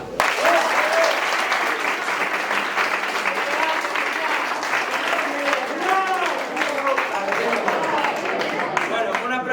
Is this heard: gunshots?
no